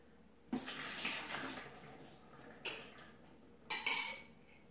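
Black treacle thinned with water is poured into a bucket for sticky toffee pudding wine, heard as three separate splashy gushes with a metallic clatter, close by and moderately loud, with quiet pauses between them.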